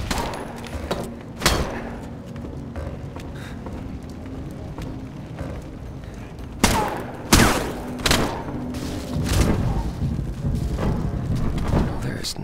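A video game shootout: bursts of gunfire and heavy thuds crack out irregularly, loud and near, with some quieter stretches between volleys and busy movement noise underneath.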